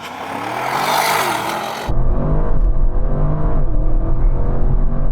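An Audi RS6 Performance accelerates hard on a quarter-mile run. Its engine roars loud and close, rising and shifting through gears without letup. No talk is heard.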